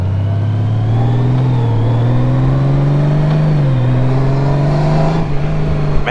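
A 2021 Honda Goldwing motorcycle engine pulls steadily under acceleration, a loud, close, continuous drone that climbs slightly in pitch before easing near the end, with no talking.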